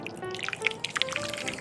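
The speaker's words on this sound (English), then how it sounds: "If he adds that hot water" Very hot water poured into a snow globe, a faint trickling and dripping with small splashes, brief and quiet.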